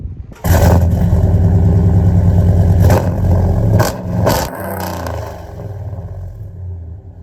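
A 2017 Dodge Ram with a 5.7 Hemi V8 and Kooks long tube headers revs loudly and close by: a sharp blip, a long held rev, then shorter bursts before it settles to a rumbling idle.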